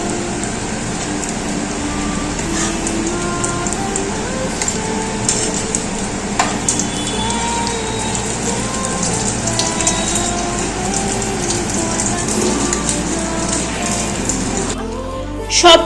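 Chicken Kabul rolls frying in hot oil, a steady close crackle and sizzle running throughout with occasional clinks of utensils against the pan.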